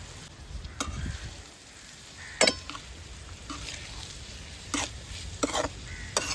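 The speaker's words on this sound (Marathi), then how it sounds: "कांदा टोमॅटोवर आंबार शिजवणी झाली 2 मिनिटं." Dried shrimp cooks in a pan with onion and tomato, giving a low steady sizzle with sharp scraping clinks of a spatula stirring at intervals, fairly quiet and close.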